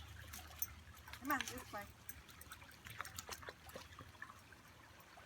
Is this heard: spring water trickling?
yes